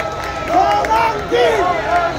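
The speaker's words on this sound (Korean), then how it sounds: "큰 박수 부탁드립니다" A large outdoor political rally crowd in front of the National Assembly in Yeouido, Seoul, cheers and shouts in sustained waves, with voices rising and falling over a dense, continuous roar.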